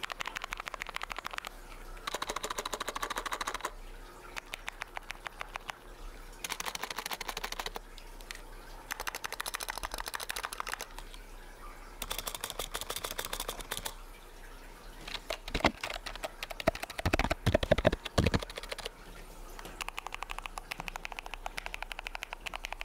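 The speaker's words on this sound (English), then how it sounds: "here's a sound test of this keyboard comparing it to my custom keyboard with lubed Thick-Thock Marshmallow" Typing on a Magegee 60% gaming keyboard, compared with a custom keyboard fitted with lubed Thick-Thock Marshmallow switches, comes as repeated bursts of quick close clacks separated by short pauses, with no talking.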